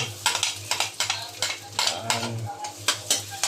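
Garlic sizzling in hot oil in a pan while a utensil stirs it in repeated scraping, clinking strokes, a steady fry beneath the rhythmic stirring.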